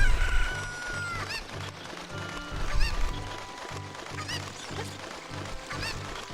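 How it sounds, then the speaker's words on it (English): Game chickens from The Legend of Zelda: Ocarina of Time cluck and crow repeatedly over a steady looping background tune, with no voices. "Chickens."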